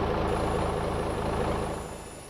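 Boeing 737 auxiliary power unit running in the X-Plane ZIBO mod flight simulator, a steady loud droning hum with a faint high whine, holding level before easing slightly at the end, with no talking.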